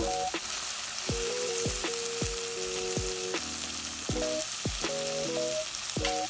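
Potatoes fry in a spiced masala for egg curry, giving a steady close sizzle throughout while music plays in the background.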